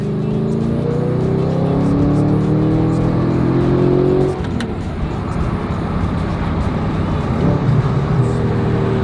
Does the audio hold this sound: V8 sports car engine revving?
yes